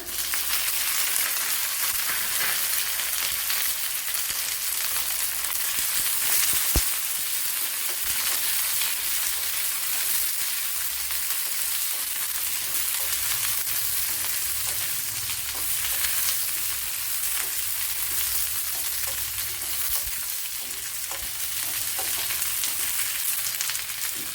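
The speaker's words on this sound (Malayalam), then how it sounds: "രണ്ടു മൂന്ന് വറ്റൽമുളക് ഇട്ട് കൊടുത്തിട്ടുണ്ട് അതുപോലെ ഒരു രണ്ട് വെണ്ടയ്ക്ക എടുത്തിട്ടുണ്ട് അതിട്ട് കൊടുക്കാം" Okra and dried red chillies fry in a pan for a long stretch, a steady bright crackling sizzle holding at an even level, with occasional faint clicks of stirring.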